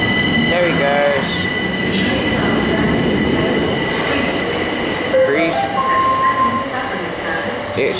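Southern Electrostar 377124 electric train pulling out of Hove station, a loud rumble of wheels on rails with squeals and tonal whines, steady throughout at close range.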